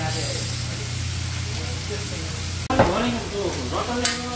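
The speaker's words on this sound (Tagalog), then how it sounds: "medyo luto na ang onion at saka garlic" Onion and garlic frying in a pan give a steady, close sizzle throughout, with a low hum underneath and a brief clatter of stirring near the end.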